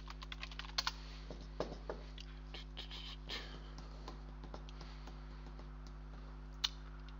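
Quiet typing on a computer keyboard while entering an email, username and password, light irregular clicks close by over a low steady hum.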